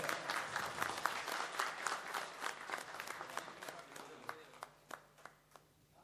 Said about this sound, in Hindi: इस आयोजक को जोरदार तालियों से स्वागत किया जाए।